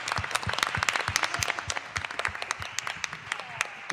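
An audience at a school board meeting applauds a student award: scattered, distinct individual claps from a modest crowd, close and crisp, with an uneven rhythm.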